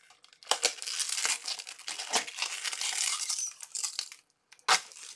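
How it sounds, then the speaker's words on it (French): Protective plastic film being peeled from a sublimation aluminium plate, crackling and crinkling in several close, loud pulls separated by short pauses, ending with one sharp tug. "on enlève la pellicule."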